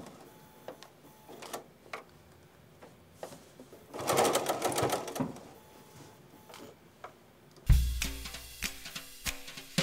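Sewing machine with a walking foot stitching through thick fabric for a tea towel: intermittent bursts of rapid mechanical stitching, with a louder, denser run toward the end, close and fairly quiet.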